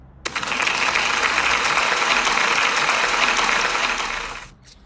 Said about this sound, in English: Can we give Reggie a big round of applause, please?